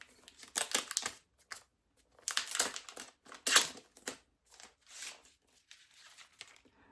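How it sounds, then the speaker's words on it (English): Paper packaging rustles and crinkles as a CarPlay device is unwrapped, coming in several close, uneven bursts of crumpling and tearing separated by short quiet gaps. "we'll remove it from its paper packaging."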